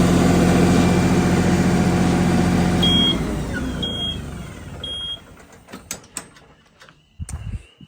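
A tractor engine drones steadily while turning a compost pile, then the engine note drops away and scattered clanks and knocks follow, with brief beeping tones partway through.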